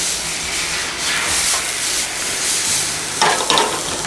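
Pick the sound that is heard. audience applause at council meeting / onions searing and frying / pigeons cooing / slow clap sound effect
onions searing and frying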